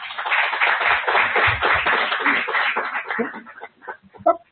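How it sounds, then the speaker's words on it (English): An audience at an academic symposium claps together in a dense round of applause that holds for a few seconds, then thins into scattered individual claps before dying out. "we should give a big applause to Murali"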